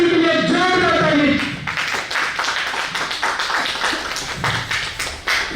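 An audience at a company celebration event in Delhi breaks into clapping after an announcer's voice fades, a steady patter of many hands that continues for several seconds.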